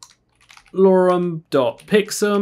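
Typing on a computer keyboard while entering a pizza recipe into a web app, with quick key clicks mixed in among a person's nearby talking.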